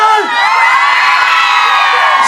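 Concert crowd at the Toufen arena screaming and cheering, a dense, loud, sustained roar of high-pitched shrieks and whoops throughout, with no talk over it.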